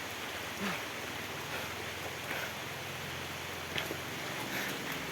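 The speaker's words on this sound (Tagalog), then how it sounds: "Malakas yung ulan." Steady, dense heavy rain hiss fills the scene at a hanging bridge in Barangay Buena Vista, Philippines, with scattered drips and splashes standing out now and then; constant and fairly loud, with no talking.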